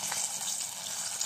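Chicken pieces fry in very hot oil for a home fried chicken dish, a close, dense crackling sizzle with fine popping spatters throughout, no one talking.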